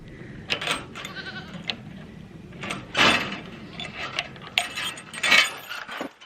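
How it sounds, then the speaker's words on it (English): Several goats bleat at a retreat, with repeated nasal calls scattered over a few seconds against a soft background, some near and loud. "I'm going to go hang out with the goats because they're just so fun"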